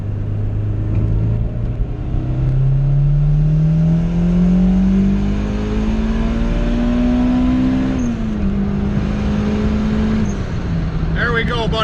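A turbocharged, GSR-swapped Honda Civic EG accelerates hard down a road in Mexico, its engine note climbing steadily through a long pull, then dropping briefly at a shift before holding again, loud and close from inside the car.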